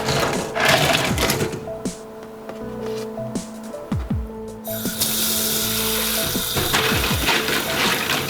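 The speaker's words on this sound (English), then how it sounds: "Wash the clams under running water." Clams rinsed under a running kitchen tap for miso soup, a steady hiss of flowing water with shells clattering and knocking against each other and the sink throughout.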